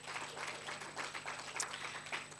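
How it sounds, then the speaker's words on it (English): An audience at a youth work indaba gives a round of applause, a steady, moderately distant clapping that continues evenly throughout. "Let's give them a round of applause."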